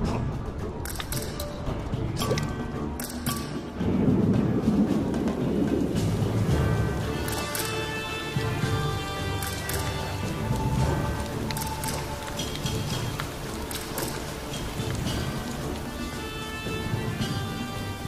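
Rain falls steadily in the Namib Desert, with low rumbles of distant thunder rolling beneath the hiss across the stretch.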